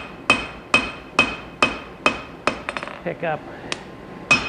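A cross peen hammer forges a wootz steel integral chef's knife, striking in a steady series of sharp, ringing metallic blows, followed by a quick flurry of lighter taps and a few more strikes, with a brief voice.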